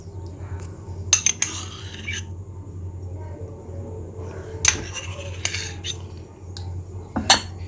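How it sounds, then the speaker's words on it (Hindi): A spoon mixes chicken, vegetables and mayo in a bowl. Bright metallic clinks and scrapes come in short bursts over a low background hum, with quiet gaps between strokes. "और इसे अच्छी तरह से मिक्स कर देंगे।"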